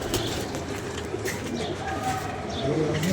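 A domestic pigeon coos softly several times at close range amid a quiet background, with low voices murmuring nearby.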